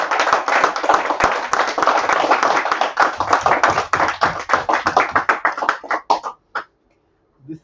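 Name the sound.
audience applauding with whole heart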